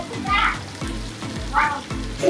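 King fish fries on a tawa in a seafood restaurant kitchen, with a steady sizzle under repeated rhythmic scraping or tapping strokes, heard close.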